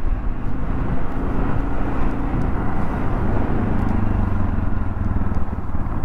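A Yamaha XT 600 E single-cylinder motorcycle rumbles steadily off-road, its engine a loud, close, continuous low throb with a faint rhythmic pulse, no speech over it.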